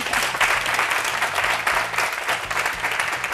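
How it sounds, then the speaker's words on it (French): An audience at a youth-oriented talk program breaks into steady applause, dense clapping at an even loudness with faint music running underneath. "Amis jeunes, applaudissez-la."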